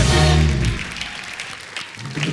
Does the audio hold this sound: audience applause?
yes